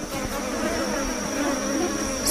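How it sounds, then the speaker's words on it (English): A swarm of sweat bees buzzing steadily and close for a couple of seconds, a continuous droning whine with no talk over it. "Sweat bees, swarms of them."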